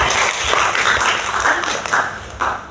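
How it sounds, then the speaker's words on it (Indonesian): Applause for a lecturer at a book discussion on Palestine: a moderate crowd claps steadily and fairly loudly, with uneven individual claps in the mix and no talking. "Boleh dong tepuk tangannya dulu dong untuk Pak Taufan."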